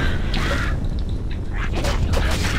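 Ravens caw in Diablo 2 during multiplayer play: several harsh, croaking calls in quick bursts over a busy game background.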